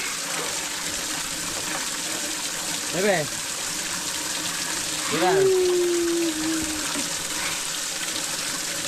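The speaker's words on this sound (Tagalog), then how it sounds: "Ang lakas ng tubig ano? Lakas." Strong, steady gush of tap water pouring into a basin for a baby's bath at an outdoor farm spot, a continuous rushing wash under a voice and adult talk.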